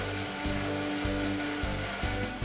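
A Hammer N4400 bandsaw cuts wooden chair parts upright to final size, a steady machine hum with repeated rhythmic surges as the blade works through the wood, close and continuous.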